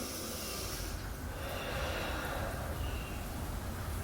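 A long, slow yoga exhale streams out as a steady breathy rush, close and continuous for several seconds, with no talking over it.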